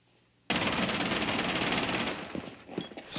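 Sustained automatic gunfire in Rainbow Six Siege: a loud, rapid rattle starts abruptly after a brief quiet moment and continues steadily, then thins into scattered shots near the end.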